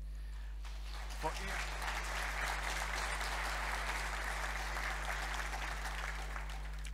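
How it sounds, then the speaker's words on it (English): Sustained audience applause at the EENA 2021 emergency services conference opening, a steady, even wash of many hands clapping at moderate distance over a constant low electrical hum. "I invite you to give a big round of applause for Ian Thompson."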